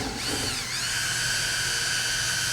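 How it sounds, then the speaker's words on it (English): Power drill fitted with a stirrer whirring through a home wine kit must, a steady high-pitched whine that rises in speed early and then holds at a constant pitch, close and continuous with no talk. "Don't go maximum power on your drill with one of these unless you want wine flying absolutely everywhere."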